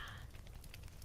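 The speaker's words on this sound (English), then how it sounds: "Can you hear the fireplace? Is it too loud?" Indoor fireplace burning at Christmastime, giving a soft, steady crackle and hiss with faint pops, low in level, continuous and alone over the brief moment.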